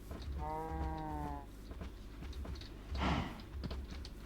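Minecraft sheep bleating in a game, a clear wavering bleat lasting about a second near the start, followed by a quieter burst of game noise with soft background ambience.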